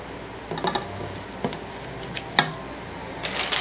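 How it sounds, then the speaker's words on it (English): Kitchen scissors snipping into raw pork chops in a home kitchen, a few crisp separate cuts and soft handling clatter spaced over a few seconds, close and fairly quiet. "She takes scissors and she cuts chops so that they don't curl up."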